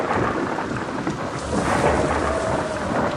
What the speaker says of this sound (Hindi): एक तेज की बिजली कड़की।